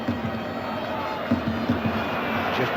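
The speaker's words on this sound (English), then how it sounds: "the crowd were booing Marcus Babbel, stopping Maradona getting through" Football stadium crowd at a 2000 friendly between Bayern München and Germany, a broad sustained roar with a low droning boo running throughout and rising at moments, heard at a distance with no clear voices in front.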